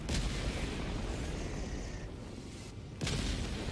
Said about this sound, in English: This is a walking barrage.